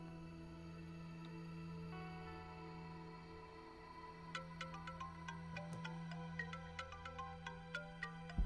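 Mobile phone ringing in an indoor drama scene: a quiet tonal ringtone melody starts out soft, then turns into a brighter, steadily repeating pattern of chiming notes over a low constant hum, with no talking.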